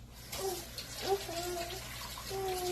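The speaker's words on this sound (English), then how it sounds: "So we have wash off the onion." Tap water runs steadily over onion being rinsed in a kitchen sink, a constant broadband rush with faint tonal squeaks, while a voice speaks softly underneath.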